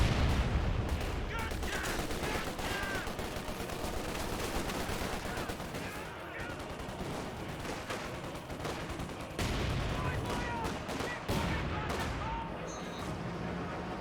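Artillery fire from a real-time war video game with Panther tanks on the field: a dense, continuous barrage of booms and rattling gunfire over fourteen seconds, with a commentator's voice running underneath.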